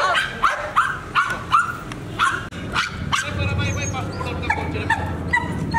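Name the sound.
dog barking during protection training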